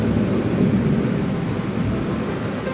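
Heavy monsoon rain in Kandivali, Mumbai, a steady dense roar of broadband noise that holds at an even loudness throughout, with no voices over it.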